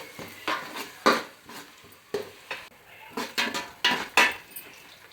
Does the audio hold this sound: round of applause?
no